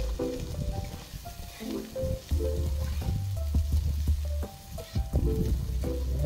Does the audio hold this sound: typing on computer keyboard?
no